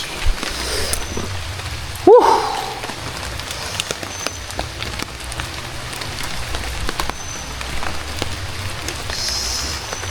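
Steady rain falls on a mountain hiking trail on Mount Argopuro via Baderan, a continuous broadband patter close around the listener, with one brief louder knock or thud early on.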